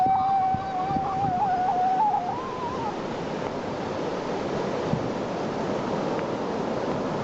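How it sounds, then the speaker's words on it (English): Ocean surf washes in a continuous broad hiss, mixed with gusty wind buffeting the microphone and a brief whistling tone at the start. "I can see the ocean"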